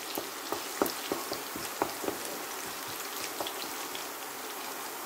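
Ginger crackles in hot oil as the base for chilli mushroom, a moderate hiss scattered with sharp spitting pops and light stirring.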